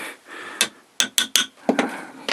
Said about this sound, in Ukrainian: Я беру отакий от молоточок маленький.